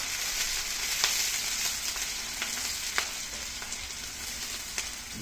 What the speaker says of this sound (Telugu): దోరగా వేగనిద్దాము.